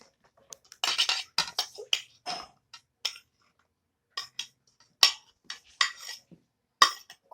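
Bananas sliced with a knife for a fruit salad, producing crisp taps and light clinks against the plate in irregular clusters separated by short silences, close by and without speech.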